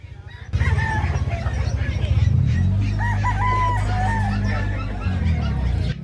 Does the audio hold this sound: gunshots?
no